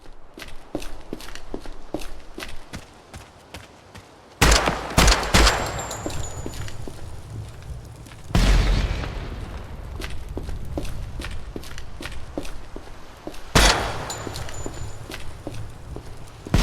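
A 30-06 rifle fires in a video game weapons test, sharp shots spaced irregularly with a few louder booming blasts that ring out, close and loud, with faint clicks between rounds.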